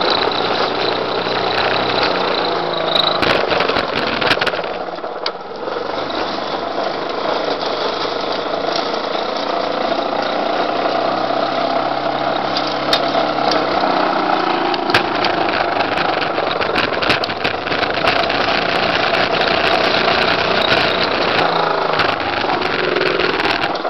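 Homemade electric conversion lawn mower cutting grass, a loud steady whirring drone with rattling blade noise and intermittent clatter from debris, continuous throughout at close range.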